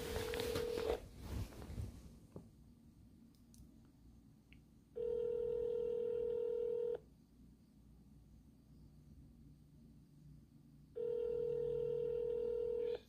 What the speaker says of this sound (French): Je vais commencer par appeler avec mon numéro public, avec mon numéro de iPhone